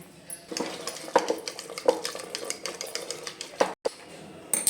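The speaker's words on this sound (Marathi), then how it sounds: "रवीने चांगलं ह्याला हलवूया" A wooden churner stirs and knocks against a metal cooker pot of freshly cooked bhaji, with irregular clacks and scraping strokes close by and a faint voice in the background.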